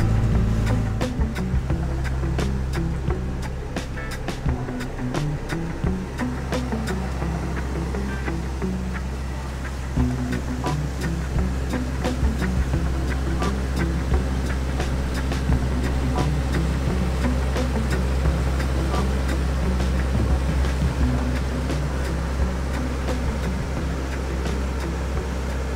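An Orkney Pilothouse 20 motorboat cruises at 19.2 knots over 55-foot-deep water, with a steady engine drone and continuous hull and water rush broken by frequent slapping knocks from the waves.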